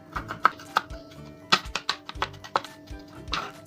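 A knife chops crushed garlic finely on a board for a smoky eggplant yogurt meze. Uneven, close, crisp taps come in quick clusters with short pauses between them.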